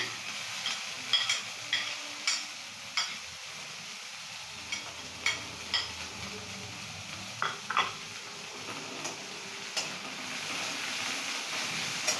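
Chopped capsicum fries in a pan under a soft sizzle while a spatula scrapes and taps against the metal in a regular, close rhythm.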